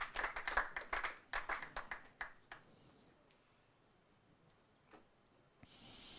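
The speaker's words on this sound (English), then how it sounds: "A round of applause for the University of Ghana School of Law." Audience applause and clapping for a university law school team at a televised law quiz competition, a burst of many hands for about two seconds that thins to scattered claps and fades out.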